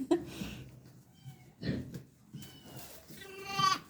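Sheep on a farm yard bleat in a few short calls, one low and near, others thinner, against quiet outdoor background with a bit of faint talk.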